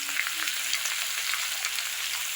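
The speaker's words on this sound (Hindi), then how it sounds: "अब इसी टाइम हम जो ये आलू रखे हैं वो आलू डाल देंगे।" Potatoes and onions fry together in a pan for a Bihari thali, giving a continuous soft, crackling hiss close by with no talking.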